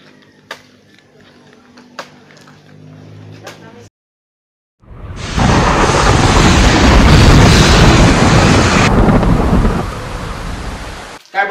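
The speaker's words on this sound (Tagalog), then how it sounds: "Habang humahagupit na unti-unti ang bagyo" A thunderstorm with heavy rain, opening with sharp knocks and a low rumble, then after a brief silence a loud, dense downpour roars steadily for several seconds before easing.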